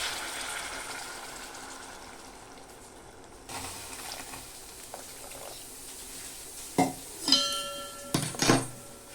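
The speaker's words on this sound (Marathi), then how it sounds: "आता याच्यातच आपण गरम पाणी ऍड करणार आहोत" Hot water is poured into a pan of moth bean curry with a soft, steady splash, then a few close metallic clinks of a utensil against the pan near the end.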